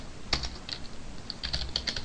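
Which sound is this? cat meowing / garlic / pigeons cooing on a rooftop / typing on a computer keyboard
typing on a computer keyboard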